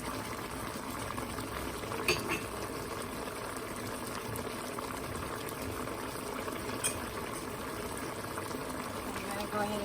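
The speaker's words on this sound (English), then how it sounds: "We're going to go ahead and pour our vinegar in." Vinegar pours into a pot of simmering pork adobo, a continuous wet trickle over steady bubbling with no clear start or stop, close and moderately quiet.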